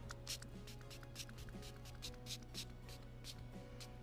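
Several short hissing bursts of a spray bottle spraying liquid onto a 2024 Subaru Outback Wilderness before applying protective film, fairly close, repeated at an uneven pace over a steady low hum.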